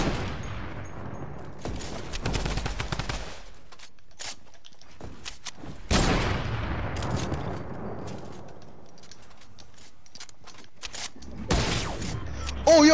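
Gunfire from a Fortnite Battle Royale trick shot: several loud bursts of rapid shots with echoing tails, separated by short quiet gaps, building to a final burst near the end.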